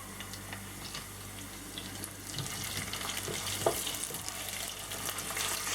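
Flour drops into hot oil in a pan and starts to fry, a soft hiss that swells and brightens over a few seconds, with a small clatter near the middle and no talking.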